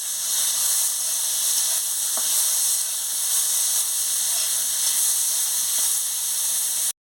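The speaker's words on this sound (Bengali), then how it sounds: "এবার আমি কাঁকড়োগুলোকে দিয়ে দিচ্ছি। দিয়ে ভালো করে আমি ভেজে নিচ্ছি।" Teasel gourd pieces frying in oil in a pan, giving a steady, fairly loud sizzle and hiss throughout with a few faint clicks and no talking.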